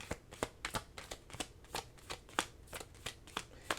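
Tarot cards are shuffled close by in a quick, rhythmic series of soft flicks and slaps, about a dozen in under four seconds, quiet and alone.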